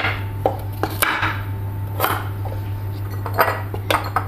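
Two potatoes are cut into large chunks on a board and dropped into a large jar, giving sharp, irregular knocks and clinks over a steady low hum, with no talking.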